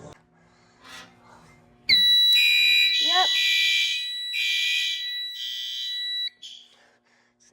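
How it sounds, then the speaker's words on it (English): A building fire alarm sounding during a monthly system test, bursting on suddenly as a loud, piercing two-tone electronic tone that holds for about four seconds before stopping, with a person briefly speaking nearby. "So you got the fire alarm."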